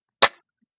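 A Stoeger S3000C air gun fires a single sharp shot at spinning paddle targets outdoors in sub-zero winter cold, a loud, brief crack that falls quickly silent.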